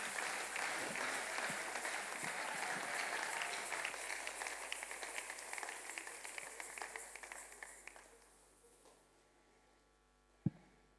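A church congregation applauding, dense sustained clapping that tapers off and fades to near quiet, ending with a single sharp knock.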